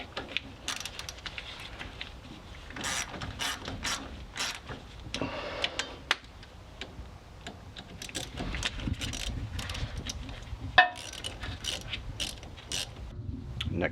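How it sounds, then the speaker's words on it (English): A ratchet clicks in short bursts while tightening the steering shaft bolts on a third-generation Toyota 4Runner, close-up metallic pawl ticking with small clanks of tools between strokes. "get your steering shaft tightened back up"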